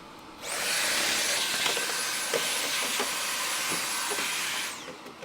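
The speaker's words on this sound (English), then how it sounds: "And the vacuum died." A vacuum cleaner runs at a steady whine with a high-pitched motor tone, close and loud for several seconds before it stops at the end.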